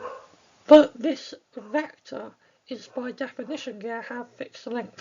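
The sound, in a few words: dog barking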